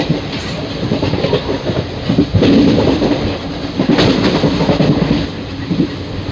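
Puri Tirupati Express with LHB coaches running at about 110 km/h through Pennada Agraharam station without stopping, heard from inside: continuous loud rumble with rhythmic clickety-clack of wheels over rail joints and surging wind noise.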